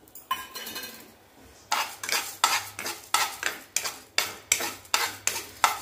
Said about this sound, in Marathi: आता ही 2 चमचे उडदाची डाळ आहे ना, ती पण भाजून घ्यायची